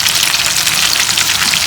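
Chicken lollipops deep frying in hot oil, a dense, loud, steady crackling sizzle that fills the whole moment without pause.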